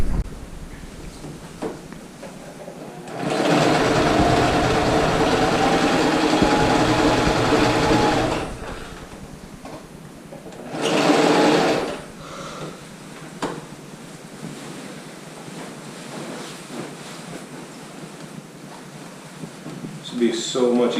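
A home sewing machine runs on a hammock under quilt in two bursts, a long steady whirring run and a shorter one, up close and loud, with quieter handling and room noise between.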